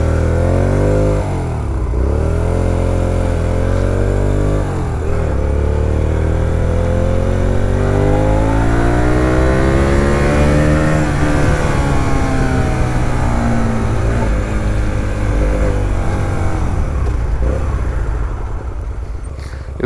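A Hyosung GT 125 motorcycle accelerates hard on a road ride, its engine revving up through several gears with rising pitch sweeps and brief dips at each shift, loud and close throughout.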